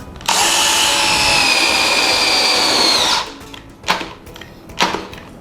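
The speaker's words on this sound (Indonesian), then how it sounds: "Kita lihat bedanya pemasangan roofing di bor." A cordless drill whines loudly and steadily for about three seconds driving a roofing screw, then stops as the screw stalls, followed by a few sharp clicks and knocks.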